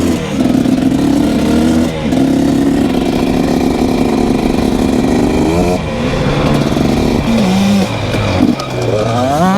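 A dirt bike engine runs steadily and loudly close by on a warm-up lap, its pitch rising and falling as the rider throttles through the ride.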